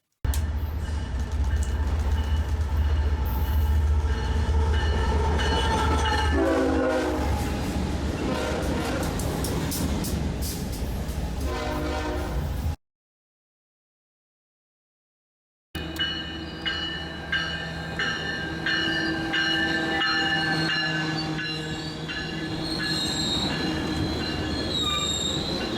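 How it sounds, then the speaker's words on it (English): BNSF freight locomotives on a light power move roll through Fullerton, California. Steel wheels squeal loudly and continuously over rumbling engines, the horn sounds, and the run breaks off for a few silent seconds before resuming. "In the previous shot, a BNSF power move makes its way through Fullerton."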